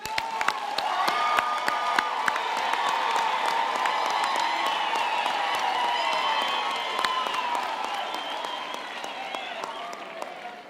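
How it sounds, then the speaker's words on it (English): Graduation ceremony audience in a large hall applauds steadily with scattered cheers and whoops rising over the dense clapping, fading slightly toward the end. "I think we can give them all a hand of applause."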